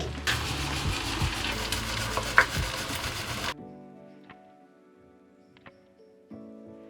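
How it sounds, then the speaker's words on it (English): Ginger and garlic hitting a hot pan of rice-dish base, a loud steady sizzle with stirring and scraping for several seconds that then cuts off, leaving faint clinks and light kitchen clatter. "I'm going to add our ginger and garlic"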